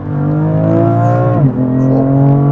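BMW M3 F80 CS, a stock, unmodified inline-six, revving loudly up close, a smooth rising harmonic engine note that climbs, dips briefly around a shift, then holds strong again.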